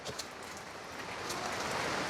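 Steady rain falling outdoors, a soft continuous hiss of drops on the ground and surfaces that swells slightly louder toward the end, with no other sounds standing out.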